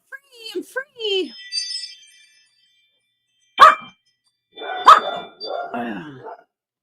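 Dogs barking at home, a few sharp barks in a short burst, then two louder separate barks after a pause, close and alone without talk.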